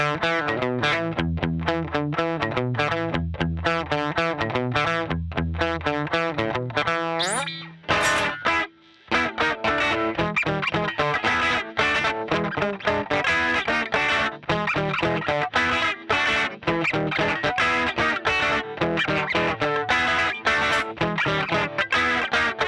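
Electric guitar played through Jon Kammerer Customs tone pods into a Fender amp with Tube Screamer distortion, loud and saturated with chorus-like shimmer, first sustained chords, a brief dropout, then fast rhythmic strumming and riffs.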